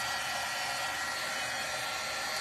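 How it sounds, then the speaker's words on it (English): Heat tool blowing steadily at close range to dry an embossed stamped card: a loud, constant, hissing rush of air with no pauses or voices. "You can use your heat tool to dry this if you so choose."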